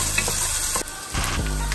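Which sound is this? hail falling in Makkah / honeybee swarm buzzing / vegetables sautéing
vegetables sautéing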